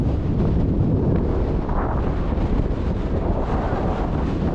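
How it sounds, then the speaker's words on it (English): Strong wind on a Scottish Munro summit buffets the microphone in a constant, heavy rumble, with a broad rushing noise and no other sounds standing out. "It's still pretty windy"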